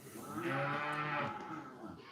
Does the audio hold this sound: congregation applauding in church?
no